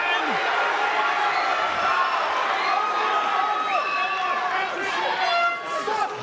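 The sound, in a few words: crowd roaring at MMA fight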